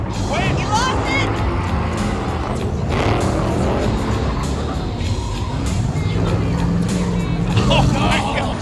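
A Porsche race car drifts at a drifting event, its engine revving and tyres screeching amid crowd noise, with excited shouting voices over the top throughout.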